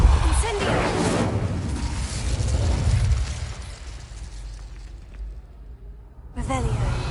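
An Incendio fire spell erupts in Hogwarts Legacy, a loud burst of roaring flame with crackling pops that swells and fades, followed by a fresh blast near the end; a voice speaks over part of it.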